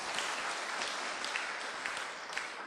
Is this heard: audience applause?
yes